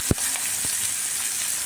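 Onion and green chillies frying in a pan for a cowpea dish, a steady hiss of sizzling oil with one sharp knock at the start and a few faint scrapes.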